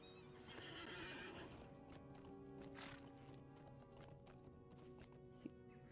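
A video game horse neighs and whinnies, and its hooves clip-clop along steadily underneath, the whole thing faint and low in level.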